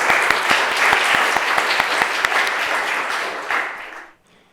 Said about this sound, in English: Let's give yourself an applause.